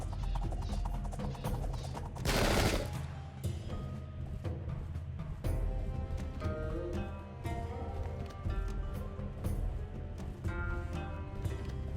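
Matchlock gunners fire volleys in the Sengoku Jidai strategy game during the defence of Nagashino, a sharp loud burst of gunfire rising over a dense battle din with music, then scattered cracks continuing.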